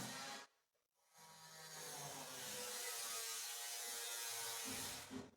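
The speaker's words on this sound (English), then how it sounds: "the drilling sound" Steady, loud mechanical drilling runs nearby, broken by a brief gap near the start and then continuing almost unbroken to the end, with no talk over it.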